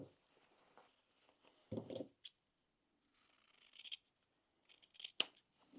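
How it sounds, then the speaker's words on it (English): Scissors trim a fabric seam allowance on a sewn crossbody bag, giving a few close, quiet snips and rustles separated by near-silent pauses. "just trim the seam allowance"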